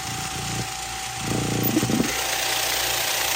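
A vibratory rock tumbler runs steadily, a loud, even mechanical buzz with a constant hum that swells slightly partway through.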